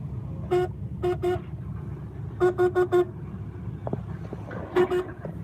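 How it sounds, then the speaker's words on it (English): A Chevrolet Lumina car horn toots in short bursts: a single honk, then a quick pair, then four rapid beeps in a row, then one more, over an idling engine hum. "the horn sounds stupid."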